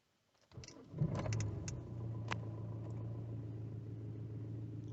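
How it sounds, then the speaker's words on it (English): Hyundai Tucson engine starting: a quiet pause, then the starter cranks with a few clicks and the engine catches, settling into a steady low idle hum that continues to the end. "start the engine"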